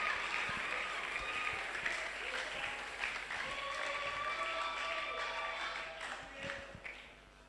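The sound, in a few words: applause from church congregation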